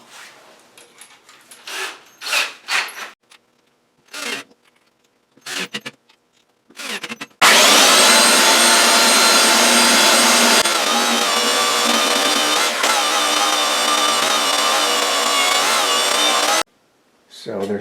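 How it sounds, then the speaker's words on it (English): A belt sander roars loudly and steadily for about nine seconds while sanding down screw heads on a plastic toilet flange ring, after someone talks with some quiet knocking. "once I use the belt sander, I obviously don't want the head of these screws impeding"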